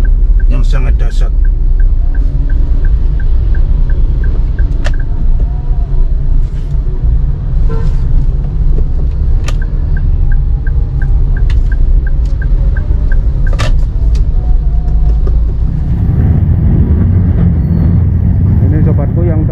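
Heavy jammed traffic on a Surabaya city road after an overturned car: a constant loud engine rumble of cars and trucks, with scattered horn beeps, hisses and clanks, and a voice talking over it.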